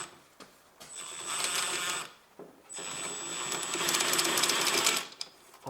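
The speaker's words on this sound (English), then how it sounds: "Now I use my electric driver." Electric driver loosening a drive shaft bolt on a Honda Civic, heard as loud whirring bursts: a short run, then a longer sustained spin with a steady high whine, then it stops.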